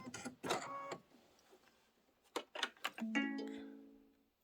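Embroidery machine stitching a crossbody bag project, bursts of rapid mechanical whirring and tapping separated by short pauses, close and moderately loud with no talk.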